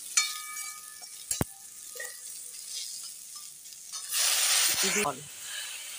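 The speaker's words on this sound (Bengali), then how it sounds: "তেলে এবার প্রথমে বেগুন দেওয়া হচ্ছে। বেগুনটা দিয়ে একটু ভালোভাবে ভেজে নেব লাল করে।" Brinjal dropped into hot oil, a sharp knock followed by quiet crackling, then a loud burst of hissing sizzle near the end, close by.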